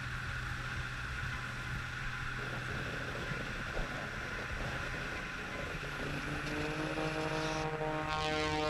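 An Extra 330 LX aerobatic airplane flying a low pass at a car and air show, its propeller engine droning steadily and loudly throughout with a rising, shifting tone near the end.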